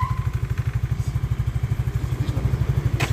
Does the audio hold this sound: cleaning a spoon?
no